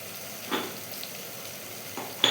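Tomatoes and onions sautéing in a pan give a soft, steady sizzle with a few light stirring scrapes, quiet and close, and no one talking.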